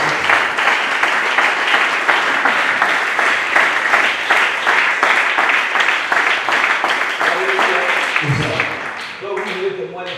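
A church congregation applauds loudly and steadily in sustained clapping with crowd noise. A voice and a few musical tones come through near the end.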